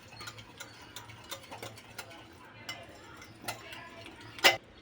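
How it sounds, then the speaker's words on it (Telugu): A whisk clicks and taps steadily against a bowl while cupcake batter ingredients are mixed, with a soft rhythmic beat, a faint hum behind it and one sharper clink near the end. "ఇప్పుడు ఈ అన్నిటిని బాగా విస్క్ చేసుకోవాలి."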